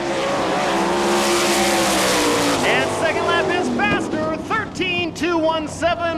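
A World of Outlaws sprint car screams around a dirt track in Rossburg, Ohio, on a qualifying lap, its engine wailing and rising and falling as it passes, with an announcer calling times over the racket.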